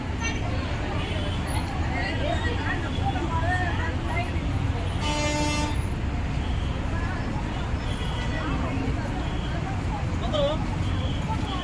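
Heavy traffic crawls past Tiruvannamalai temple during Maha Shivaratri, with a steady roar of vehicles and crowd babble, and one loud sustained horn blast in the middle plus fainter honks around it.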